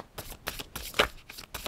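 Tarot cards being shuffled by hand in a reading, a run of quick crisp riffling bursts with brief pauses between them, close and fairly soft, with no voices.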